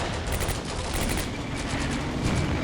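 Dense, continuous gunfire from the World War II tactics game Combat Mission: Beyond Overlord, a loud overlapping fusillade of rifle and machine-gun bursts with no pauses.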